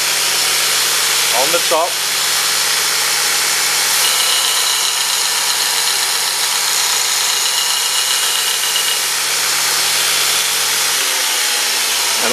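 A motor-driven buffing wheel sharpening a negative rake scraper produces a loud, steady mechanical whir and drone throughout, close up, with a brief spoken remark over it near the start.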